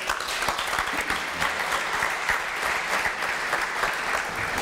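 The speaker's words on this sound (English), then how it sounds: "join me in giving them a round of applause." Steady applause from a crowd, sustained clapping at an even level throughout with no talking.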